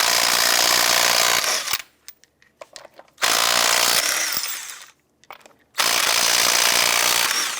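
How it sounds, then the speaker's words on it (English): On a 2005-2007 Jeep Liberty, the lug nuts are spun off with a 19mm socket on a power tool. Loud sustained whirring bursts are broken by short gaps and clanks. "Using a 19mm socket, we'll go ahead and remove the lug nuts."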